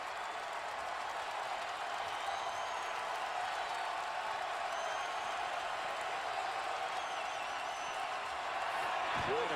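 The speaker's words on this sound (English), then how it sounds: "Trying to quiet the crowd" Steady roar of a basketball arena crowd at a Marquette vs. Syracuse game, a broad continuous wash of cheering and noise holding level throughout with no clear breaks.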